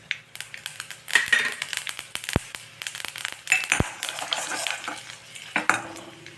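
A single dried red chilli fries in oil for manathakkali vathal kuzhambu, a quiet sizzle under scraping stirs of a spoon with a couple of sharp clinks against the pan, no talking.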